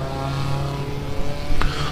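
Race cars roll out onto the track at Buttonwillow during a GTA season finals session, their engines a steady low drone nearby with one short sharp clack near the end.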